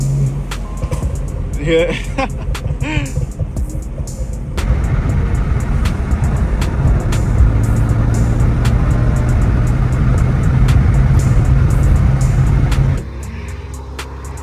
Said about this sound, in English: And then just by one downshift, this thing is back in all action again. Watch. Third gear.